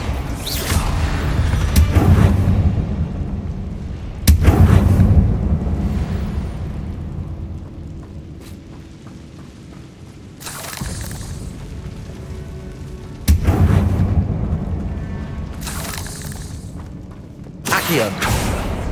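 Bombarda blasting spell cast in the Hogwarts Legacy video game inside a catacomb, giving several loud booming explosions with rumbling decay, spaced a few seconds apart over background game music.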